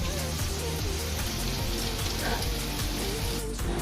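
Broiler chicken meat frying in a pot for Bangladeshi tehari, a steady close sizzle and crackle that runs without a break, with a low background hum underneath.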